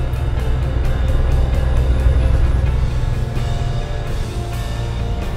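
A car drives along a snow-covered road in Arizona. Its engine and tyre rumble stay loud and steady throughout, with no talk.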